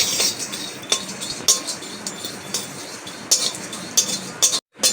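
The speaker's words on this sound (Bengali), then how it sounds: "শুকনো কড়াইতে ভেজে নেব।" Whole spices (star anise, fennel seeds, cinnamon, cardamom and cloves) are dry-roasted in a dry wok, giving repeated bright metallic clinks and scrapes from stirring over a light rattling hiss, fairly close and irregular.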